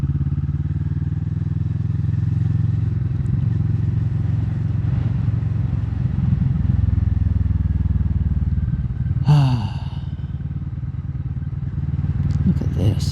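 A Kawasaki Vulcan S motorcycle engine drones steadily as it rides down a narrow, winding country lane, a low continuous rumble with a brief clatter near the end and no breaks in the engine note.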